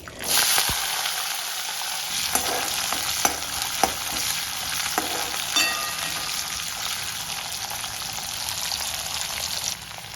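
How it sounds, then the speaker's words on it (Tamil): Shallots, garlic and curry leaves sauté in hot oil, giving a loud, continuous crackling sizzle with scattered pops and a few stirring knocks throughout. "இப்போ எடுத்து வச்சுருக்க வெங்காயம் பூண்டு கா கருவேப்பிலை இதை வந்து வதக்கிக்குவோம்"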